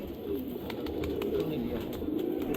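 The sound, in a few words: pigeons cooing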